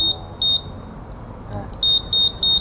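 A Honda PCX160 scooter's anti-theft alarm gives sharp, piercing electronic beeps, first a few spaced chirps and then a quicker run of four loud beeps after a short quiet gap.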